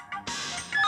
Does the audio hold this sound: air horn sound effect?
no